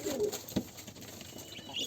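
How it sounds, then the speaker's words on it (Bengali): Pigeons in a farm loft coo and scuffle while fighting, one clear coo standing out mid-clip over low rustling and fainter calls nearby. "যতবার আমি ওই কবুতরের ঝগড়া থামাই দিতে আছি কিন্তু তারপরও তারা ঝগড়া থামাইতে আসে না"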